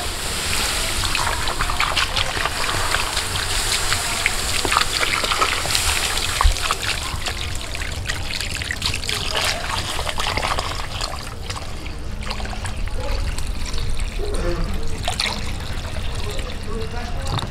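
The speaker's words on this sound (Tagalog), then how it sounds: "Tapos niyan, lagay ko na yung tubig" Water poured into a cooking pot in a home kitchen, a continuous trickling splash running for most of the stretch amid faint kitchen clatter, with someone speaking over it.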